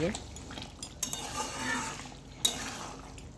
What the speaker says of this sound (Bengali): মিট মশলা দিয়ে একটু নাড়াচাড়া করে দিলাম